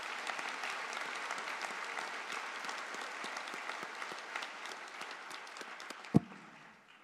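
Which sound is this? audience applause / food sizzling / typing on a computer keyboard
audience applause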